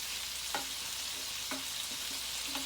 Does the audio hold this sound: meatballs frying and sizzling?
yes